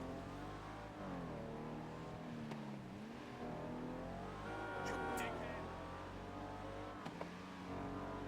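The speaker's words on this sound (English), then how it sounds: "I could tell this car needs like maintenance. It sounds horrible." A poorly maintained car engine in a GTA V game drones roughly with wavering, uneven revs, a steady harmonic hum that dips and rises, with someone talking over it.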